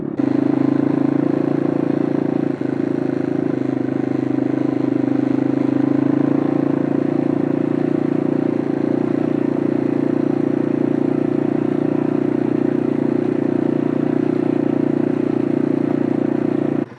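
A motorcycle rides along at a steady pace, its engine drone loud and close with wind rumble, continuous for the whole stretch with no talk.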